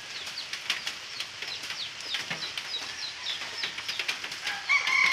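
Chickens and a rooster in a garden yard, with repeated short clucks and chirpy calls scattered across a busy outdoor background, fairly close, plus occasional wing or rustling sounds.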